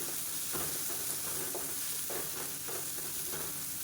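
Green chillies, black pepper and cumin stir-fry in a hot pan with a steady close sizzle, broken by a regular rhythm of soft stirring scrapes.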